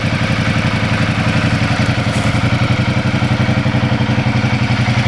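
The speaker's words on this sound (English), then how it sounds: "Really nice sounding standard exhaust as well." A motorcycle idles through its standard exhaust, a loud, close, steady rumble with an even, rapid pulsing beat and a slight mechanical clatter, with no voices.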